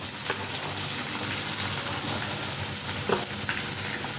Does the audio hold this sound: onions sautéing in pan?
yes